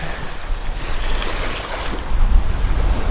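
Steady rush of wind and water against a sailing catamaran's hull under full sail in the Bahamas, with waves sloshing and broadband wind noise throughout, growing a bit louder toward the end.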